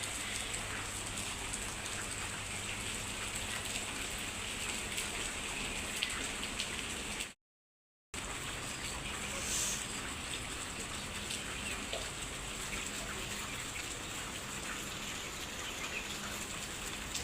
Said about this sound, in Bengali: একটুও থামে না এখন ফজরে আজানে যখন দেয় তখনও কি ঝুমঝুম বৃষ্টি